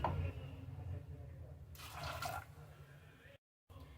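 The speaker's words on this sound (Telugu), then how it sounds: "ఇందులో 2 కప్స్ వాటర్ యాడ్ చేసుకోండి." A short splash of water pouring into a pressure cooker, lasting under a second, follows a voice speaking at the start, with quiet room hum around it.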